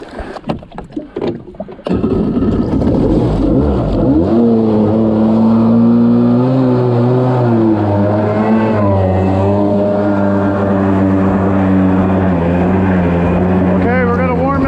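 A Kawasaki jet ski, converted with a 440/650 engine swap, starts up and settles into a loud, steady idle as it warms up, with a wavering engine drone and irregular noise before it catches.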